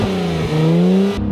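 An Acura NSX engine revs briefly, a loud close drone whose pitch dips then climbs steadily before cutting off abruptly.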